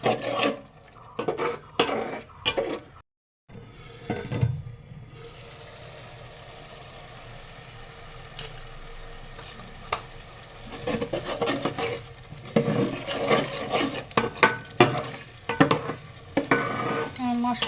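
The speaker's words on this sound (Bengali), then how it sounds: "এখন আমি এর ভিতরে দিয়ে দিব কুচি করে রাখা টমেটো কুচি দিয়ে দিচ্ছি।" Chopped tomato goes into a pan of fried spices and is stirred, soft sizzling under intermittent scraping and clattering of a spoon against the pot, with a brief silence early on.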